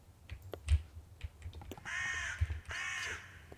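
Crows cawing outdoors in a Minecraft build session, two loud harsh caws in the latter half, preceded by scattered soft clicks and taps of keyboard and mouse.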